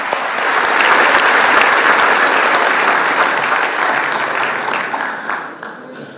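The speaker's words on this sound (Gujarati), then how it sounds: "જોરદાર તાળી થઈ જાય" Loud, close applause from a large audience at a Gujarati literary talk swells quickly, holds as a dense wash of clapping, then gradually thins and fades near the end.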